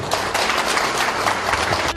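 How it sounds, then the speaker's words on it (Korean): Dense crowd applause at an installation ceremony of a Nonsan construction machinery association, steady loud clapping filling the room with no voices. "박수 한번 주"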